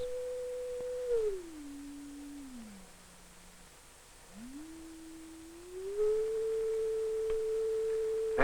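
Laboratory oscillator producing a pure sine tone in a 1961 film about sound waves in air, stepping down in pitch, pausing briefly, then sliding back up and holding steady, clear and alone.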